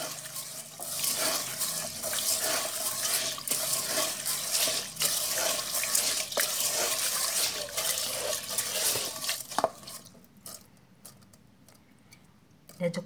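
Water runs and splashes steadily as something is washed in it until the water turns white, a close continuous stream for about ten seconds before fading to quiet with a few small knocks.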